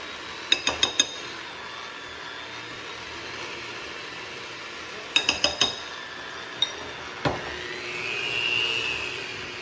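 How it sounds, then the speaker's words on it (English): Spoon scooping powdered sugar into a mixing bowl, a few quick clinks and taps against the bowl in bursts over a steady background hum. "I'm going to use this spoon that I did the chocolate in and just kind of scoop it in here"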